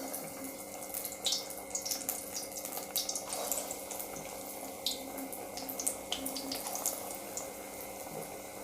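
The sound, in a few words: spinach bonda batter frying in hot oil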